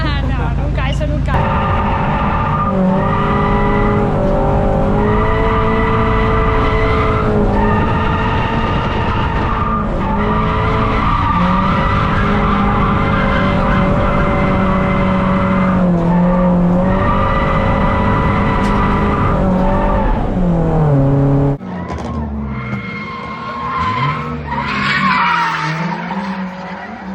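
A 140-horsepower BMW E36 Compact 318 Ti drifts on a long racing circuit in Almería, its tires squealing loudly and continuously over a roaring, revving engine. Near the end the sound drops and changes character.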